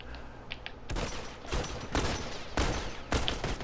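Gunfire in a shooter video game, with heavy bursts of shots in several separate volleys at a steady rhythm, loud and close, with no talk over it.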